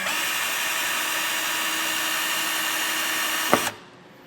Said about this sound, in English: We're going to be drilling through the center of these 2 rivets.